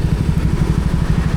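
A Honda Giorno scooter labors on a night ride, its engine giving a steady, loud, rough drone with a low pulsing beat and no voices over it.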